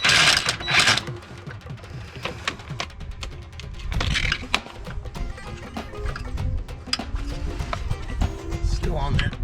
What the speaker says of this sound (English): I'm going to put the wrench on top and my impact gun on the bottom to try to get these out of there